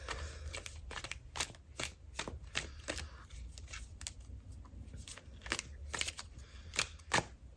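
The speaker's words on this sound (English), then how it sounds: "So I'm going to give these a shuffle" Quiet, close-up shuffling of tarot cards: a series of sharp riffling bursts and soft flicks at an irregular rhythm, no voices.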